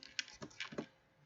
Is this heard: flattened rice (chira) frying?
no